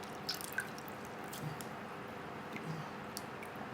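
Kaffir limes soaked overnight in limewater are squeezed out by hand, making faint, close squishing and a few scattered drips over a quiet background, with no one speaking.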